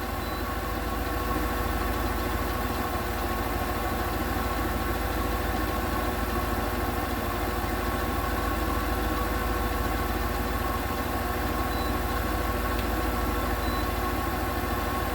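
A 1997 Ford E-150 Econoline's 5.4L V8 idling while it warms up, a steady low rumble with an even hum, close and constant for the whole stretch with no one speaking.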